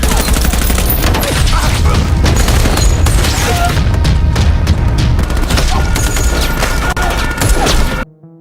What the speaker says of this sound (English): After a brief firefight, the 2 soldiers easily kill them.